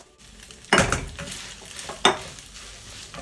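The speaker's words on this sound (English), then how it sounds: "Going to stir gently to ensure everything is well combined." Jollof pasta with tofu sauce is stirred in a pot, giving two distinct scraping clatters of a spoon against the pot amid a faint sizzle.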